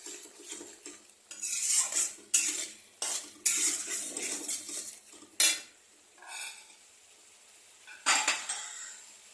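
Fish being stirred and sautéed over medium heat in a pan, a small Bengali-style tangra fish dish: scraping utensil strokes and clinks against the pan come in bursts over a soft sizzle, fairly close, with no talk.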